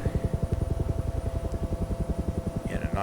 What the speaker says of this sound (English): you want to trim your helicopter to where it's nice and stable